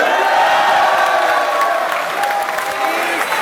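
Crowd cheering and applauding at a FlipTop rap battle in 2011, a loud, dense roar of voices and claps that holds steady throughout.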